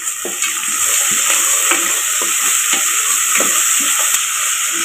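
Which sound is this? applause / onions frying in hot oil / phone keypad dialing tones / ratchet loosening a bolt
onions frying in hot oil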